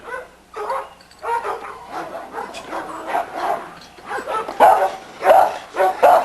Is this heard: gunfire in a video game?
no